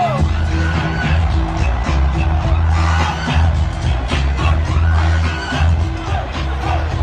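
Dense stadium crowd at a Wisconsin football game against Oregon, thousands of fans jumping along to the Jump Around tradition, a loud continuous roar with a steady pounding low beat running underneath.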